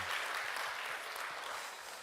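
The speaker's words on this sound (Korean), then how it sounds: "우리 감사의 박수 하겠습니다." A church congregation at a Korean Wednesday service gives applause of thanks, a soft, steady wash of many hands clapping at a distance that tapers off slightly.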